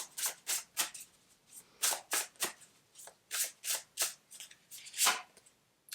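Divine Abundance Oracle cards being shuffled by hand, a quick series of crisp riffling bursts in an irregular rhythm, close and fairly quiet with no voice over them.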